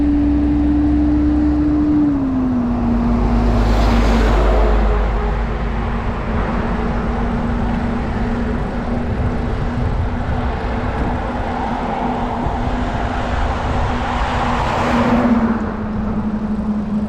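A car passes close by a cyclist riding on a long straight path in South Korea, a steady engine drone and tyre rush swelling and fading over continuous wind and road noise, with a second vehicle surge near the end.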